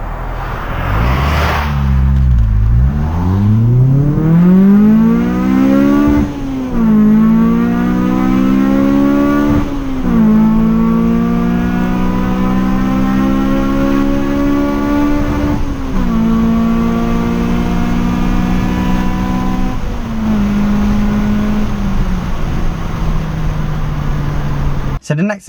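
Honda Civic EP3 Type R engine revving hard through the gears from inside the car, pitch climbing steeply with each pull as VTEC kicks in around 5,000 RPM, loud and close, with sharp drops at each shift and brushes against the rev limiter.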